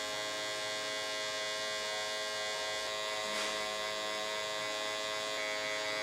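Electric hair clippers buzz steadily through a taper fade, a close, even electric drone with a brief bump in the middle as the lever is closed, running alone without talk.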